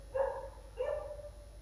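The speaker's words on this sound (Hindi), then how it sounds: "जो कि कुत्ता भौंक रहा है, आप लोग सुन रहे हो" A dog barks twice indoors, two short, faint barks about half a second apart, heard from some distance in an otherwise quiet room.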